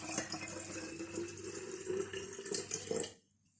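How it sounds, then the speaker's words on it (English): Water poured into and out of a laboratory beaker while preparing a manganese chemistry demonstration, a steady splashing, trickling flow for about three seconds that stops abruptly into near silence. "prepare that you'll be watching me pour water in and out of the beaker"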